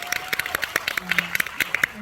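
Scattered handclaps from an audience at a panel talk for a drama series, a loose, uneven patter of individual claps with voices speaking underneath.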